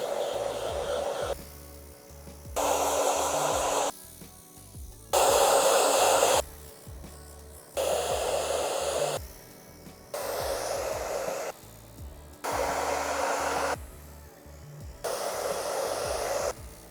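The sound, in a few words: hair dryer blowing on cold setting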